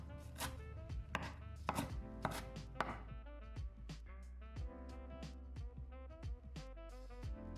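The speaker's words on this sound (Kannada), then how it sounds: "ಇದ್ರದ್ದು ಸ್ಟೆಮ್ ಭಾಗನ ಮತ್ತು ಎಲೆನ ಎರಡನ್ನೂ ಸೆಪ್ರೇಟ್ ಮಾಡಿ ಕಟ್ ಮಾಡ್ಕೊಳ್ಳೋಣ." A knife chops coriander leaves and stems on a board, a quiet, close series of quick, evenly rhythmic strokes continuing throughout with no talking.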